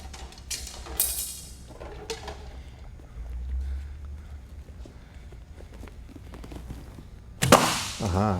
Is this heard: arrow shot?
yes